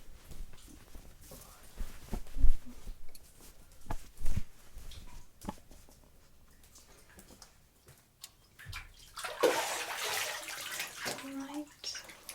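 Water moves in a bathtub, with quiet sloshing and gentle drips that swell into a brief, brighter splash near the end, set against a soft, intimate, close-up room tone.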